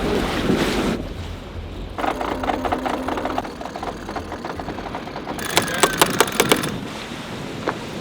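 Steady wind noise rushes past while a sailboat moves at speed in 18 knots of true wind, with a rhythmic mechanical whirring or clicking rising and falling underneath, loud and close to the microphone.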